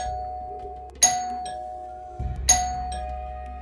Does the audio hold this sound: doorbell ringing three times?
yes